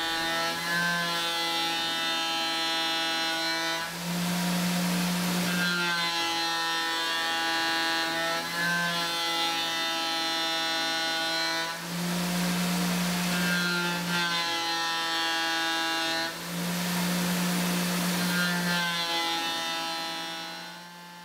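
CNC mill running a shear hog cutter at 10,000 RPM, feeding 100 inches a minute with 0.15 width and depth of cut, gives a loud, steady whine rich in harmonics, with repeated louder surges as the cutter engages the workpiece on each pass.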